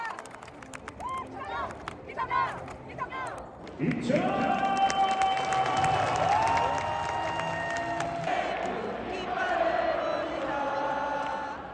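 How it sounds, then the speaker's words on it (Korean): A large crowd in a stadium at a K League season-opening football match swells into loud cheering and clapping after a few seconds of quieter ambience, with a public-address voice ringing over the noise. "큰 박수 부탁드립니다"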